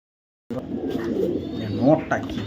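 Racer pigeons coo softly and repeatedly at close range, blending with someone talking and a low, steady background hum.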